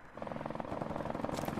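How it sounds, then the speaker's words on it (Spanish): An allied helicopter in Call of Duty 4 approaches with steady, fast rotor chopping, a continuous throbbing pulse that holds close and fairly loud throughout the short moment. "Helicóptero aliado en camino."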